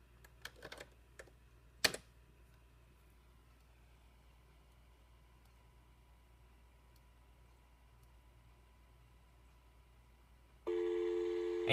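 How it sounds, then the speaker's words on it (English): A steady telephone dial tone from a PAP2T analog telephone adapter starts abruptly near the end and holds loud and unbroken, following a few sharp keyboard typing clicks over a quiet background. "And you'll see we have dial tone now."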